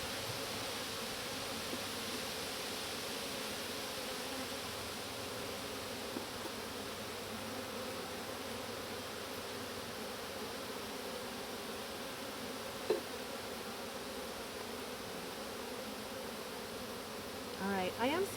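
Honeybees buzz as a dense, steady drone throughout a full summer hive inspection, close and continuous, with a faint click and a brief rustle near the end.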